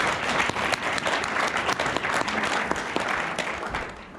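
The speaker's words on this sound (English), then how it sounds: "So please give yourself a round of applause." An audience at an annual food and agriculture gathering in Vermont applauds itself during opening remarks, giving continuous, full clapping from a room of people that holds steady for several seconds.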